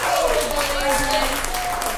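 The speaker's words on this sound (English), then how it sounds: "So let's give one more big historic clap." An audience at a music and guest event claps loudly and steadily, a dense sustained wash of applause with a tonal music or voice line running underneath.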